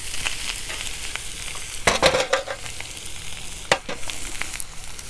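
Chuck eye steaks sizzle on a 200,000 BTU high pressure low profile burner, a steady close crackling hiss broken by two brief louder bursts of spitting and shifting, with no talking.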